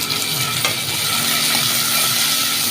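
Curry leaves sizzle and crackle in hot oil in a home kitchen while a utensil stirs and scrapes through them, a steady close hiss with occasional metallic clicks.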